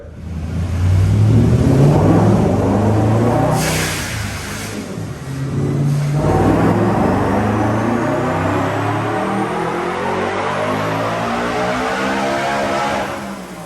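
BMW E90 M3 engine tuned to about 650 wheel horsepower, revving hard through baseline dyno pulls: a loud, sustained engine roar climbs steadily in pitch, dips briefly mid-run, then rises again to a long high rev.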